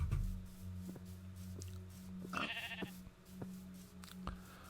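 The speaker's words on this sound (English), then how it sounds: "Lots of sheep on this map, that's for sure." Sheep bleating in Minecraft, a couple of short faint bleats amid game ambience and quiet clicking sounds.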